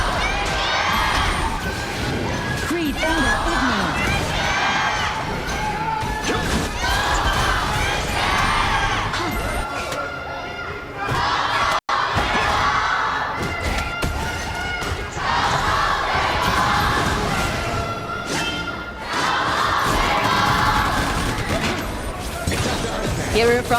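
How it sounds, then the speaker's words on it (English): Large arena crowd at an esports grand final cheering and shouting in repeated swelling waves, loud and dense, with a commentator's voice running over it. "Hearing from the crowd"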